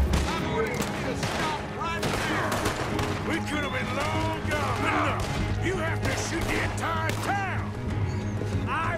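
Scattered gunfire erupts during a Red Dead Redemption 2 shootout, with repeated shots, sharp crashes and a horse amid the game's chaotic mix, while in-game voices call out throughout.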